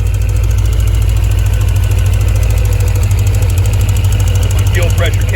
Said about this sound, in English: Well, those injectors are noisy.